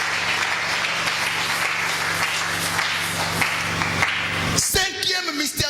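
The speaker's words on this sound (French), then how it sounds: "Nous acclamons très fort le Seigneur." Church congregation applauding loudly during a French-language sermon, sustained dense clapping with a steady low hum beneath, ending in a brief shift of mixed noise.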